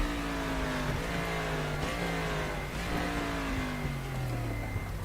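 A race car engine in RaceRoom Racing Experience winds up through the gears, each rising whine broken by short shift dips, loud and steady with no talk.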